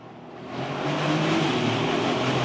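A Bentley Continental GT hybrid engine revs up while downshifting, heard from inside the cabin as a steady, loud rising roar that swells and holds to the end, with no talking.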